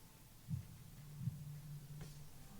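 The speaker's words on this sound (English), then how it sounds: "Kind of sounds like a heartbeat." A slow, low heartbeat sound effect throbs faintly, with two soft thumps followed by a sustained low hum in a quiet, eerie setting.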